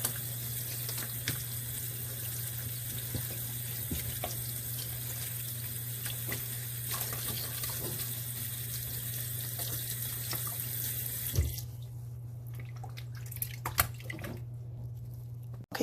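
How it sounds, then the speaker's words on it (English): Tap water runs steadily into a kitchen sink while a salmon fillet is rinsed, a continuous close splashing stream that stops near the end, leaving a few faint drips and handling clicks. "so I'll be washing my salmon"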